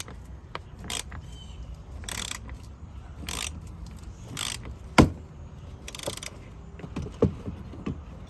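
A 10mm wrench or ratchet undoing a tight bolt at the fog light of a 2016 Honda Civic, with repeated close metallic ratcheting clicks and scrapes coming in short bursts and one sharp clank, with no talk.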